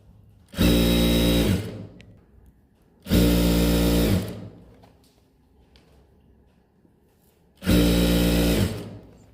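A sewing machine stitches a casing along a palazzo waistband, running in three loud, steady bursts of a few seconds each with quiet pauses between them.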